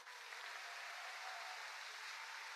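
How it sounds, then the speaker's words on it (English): Warm applause from a seminar audience welcoming new attendees at a business opportunity sharing event, a steady, dense wash of many hands clapping, heard at a distance and fairly quiet, with no talk. "Can we give all these new friends a warm applause?"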